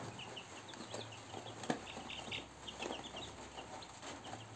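Week-old Kuntara 4 chicks cheep and peep in scattered high chirps, faint and close, over a low background hum with a brief knock.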